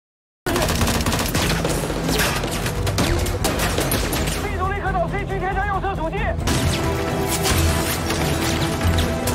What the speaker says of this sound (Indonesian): Baku tembak pun terjadi dengan sengit di perumahan itu